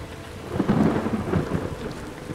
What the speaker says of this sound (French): mais c'est qu'il y a de l'orage en plus